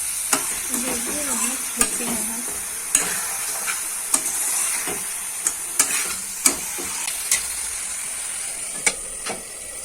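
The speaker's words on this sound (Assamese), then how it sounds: "এতিয়া অলপ দেৰি মাংসখিনি ভাজিব লাগিব।" Pork pieces fry in a pan with cumin powder and previously fried potatoes, a steady close sizzle punctuated by about a dozen sharp scrapes and knocks of a spatula stirring, with a faint voice murmuring briefly near the start.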